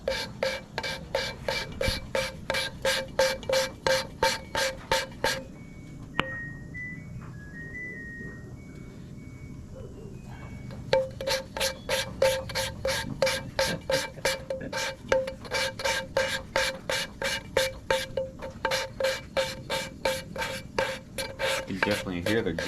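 An engine valve being lapped with gritty compound, a rhythmic rasping scrape repeating in fast regular strokes, close and steady, with a brief pause partway through where a faint whistle-like tone is heard.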